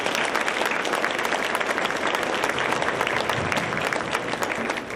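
Sustained applause from an audience at a Boys and Girls Club 100th anniversary evening, steady and moderately loud throughout with a faint crowd murmur beneath.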